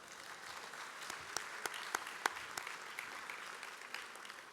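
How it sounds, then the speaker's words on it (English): Applause from an audience at an awards luncheon: a steady patter of many hands clapping, with a few sharper claps standing out, heard at moderate distance without talk. "So an applause for Bob,"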